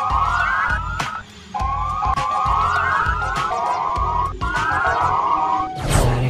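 An animated Siren Head gives a loud siren wail: repeated rising sweeps close together, broken by short pauses, ending in a harsh burst.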